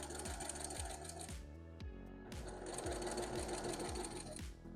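A sewing machine stitches a sweatshirt sleeve made of stretchy material, its fast rhythmic motor chatter running close and loud. It stops for a short pause and then starts again.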